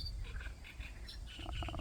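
A frog croaks in short repeated calls against a low, steady outdoor hum, faint and somewhat distant, by the marshy banks of the Irpin River in Ukraine.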